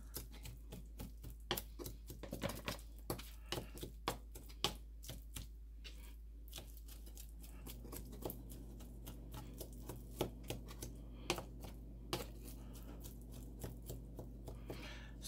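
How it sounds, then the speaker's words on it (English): Rapid, faint knife taps on a cutting board while raw shrimp is chopped, a steady run of short sharp strikes over a low constant hum. "Make sure your knife is sharp so it can really cut through the shrimps."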